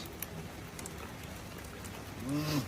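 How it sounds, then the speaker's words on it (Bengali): Heavy rain falls as a soft, even, distant-sounding wash of patter, fairly faint throughout, with a brief voice rising near the end. "খুব জোরে বৃষ্টি পড়ছে দাদা"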